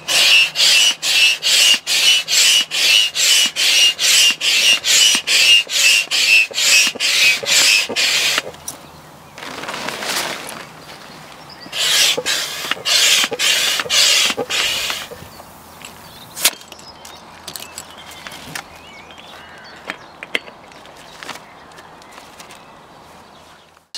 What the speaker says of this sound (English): So we're going to inflate the last beam.